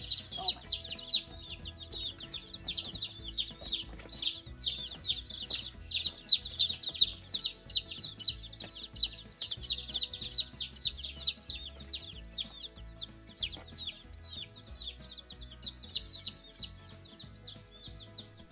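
Baby chicks peep in dense, high, rapid chirps and soft clucks, a busy flock close by that swells and fades in waves throughout.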